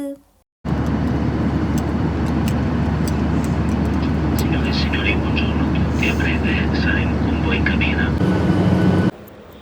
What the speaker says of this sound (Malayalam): അപ്പോൾ ഇതാണ് നമ്മുടെ ഫ്ലൈറ്റ്